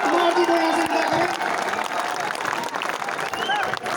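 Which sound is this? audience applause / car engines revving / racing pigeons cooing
audience applause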